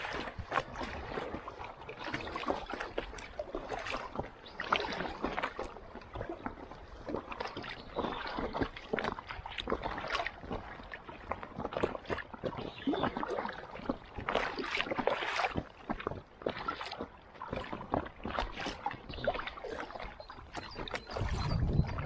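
River waves splash and slosh steadily around an Intex Excursion Pro inflatable fishing kayak during a river float, a continuous close churn of water with paddle strokes.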